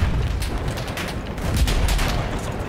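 Dense, continuous gunfire from the World War I shooter Battlefield 1, with overlapping rifle and machine-gun bursts and heavy booms forming a loud, chaotic battle wash with no gaps throughout.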